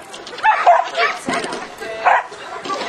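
A dog barks at an agility competition senior final, giving several sharp, yipping barks in quick bursts close by while people talk over and around it.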